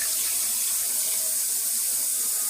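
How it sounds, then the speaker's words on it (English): Water pouring steadily into a cooking pot, a loud, continuous close rush of splashing with no pauses and no voices. "I want you to put 2 cups of water into that pot."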